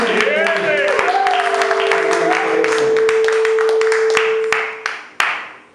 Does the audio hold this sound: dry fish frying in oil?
no